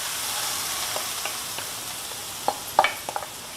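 Grated mango and ginger hit hot sesame oil in a pan, giving a steady soft sizzle with a few sharper crackles and pops near the end, with no voices.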